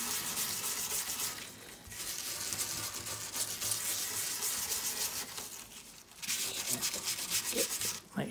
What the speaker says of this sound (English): the surface that's going to be attached to the wood, we just give it a good scuffing